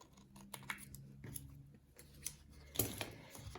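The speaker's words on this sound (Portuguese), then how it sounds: "Então, eu vou cortar aqui no arredondado." Scissors cutting around the rounded edge of a paper pattern template for a document holder, giving soft close snips and rustles with occasional sharper clicks.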